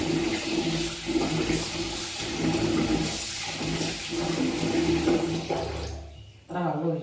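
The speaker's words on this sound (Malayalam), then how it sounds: "ഇത്ര വെള്ളം ഒഴിച്ചു നമ്മൾ" Water is poured from a vessel over rice being soaked for idli batter, a loud continuous gushing splash lasting about six seconds before it stops, followed by a brief clatter.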